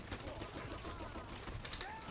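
Rapid bursts of gunfire crackle through a busy Dirty Bomb firefight, with dense overlapping shots in continuous noise and a faint voice in the mix.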